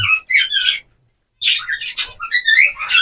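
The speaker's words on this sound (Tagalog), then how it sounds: "zebra finches ko dito na mga isinalang ko" Zebra finches chirp in quick, busy bursts of high tweets, a short pause, then more overlapping chirping close by with no talking.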